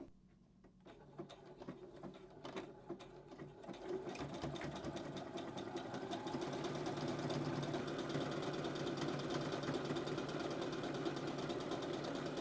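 A domestic sewing machine stitching across a seam junction, its steady rapid motor whir starting quietly, then swelling into a continuous close hum.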